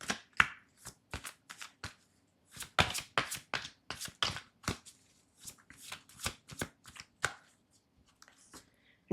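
Tarot cards being shuffled and drawn, a quick run of crisp, dry slaps and riffles in uneven bursts, close and fairly quiet with brief pauses between.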